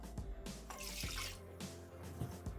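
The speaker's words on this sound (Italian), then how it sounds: "Mettere all'interno del boccale l'acqua" Water pouring into a Thermomix bowl while making Parisian focaccia dough, a soft continuous trickle and splash with a few drip-like accents, close and quiet, with no talking.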